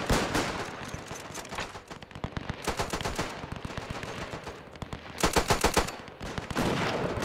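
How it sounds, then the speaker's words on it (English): Light troops firing rifles at Russians in a WW1 video game, with dense overlapping gunfire, rapid volleys and crackling shots that swell and fade in waves, loud and continuous, with no voices. "The light troops here firing away at the Russians."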